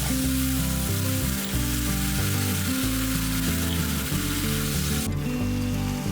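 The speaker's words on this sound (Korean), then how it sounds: "팬에 식용유를 두르고 양파를 볶다가 양파가 투명해지면 썰어놓은 배추김치를 넣고 잘 볶아주세요." Steady loud sizzling as sliced onion and cabbage kimchi stir-fry in cooking oil in a pan, a continuous close crackle with a low rumble underneath and no voices.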